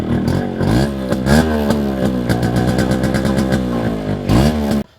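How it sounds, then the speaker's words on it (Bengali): A Yamaha RX motorcycle, readied in front of a house, revs loudly and close up, its two-stroke engine rising and falling in pitch with a rattling, popping tone for several seconds before cutting off abruptly. "তারপর আমাদের RX-35-এর একটু সাউন্ড শুনছিলাম।"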